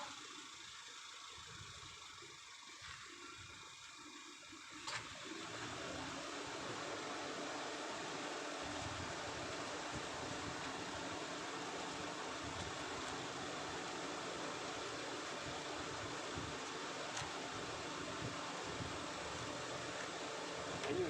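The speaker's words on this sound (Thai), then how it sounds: "เปิดแอร์ได้เลยครับ" A Mitsubishi Xpander's air conditioning switches on, with a click near five seconds followed by a steady, moderately loud blower rush that holds evenly to the end.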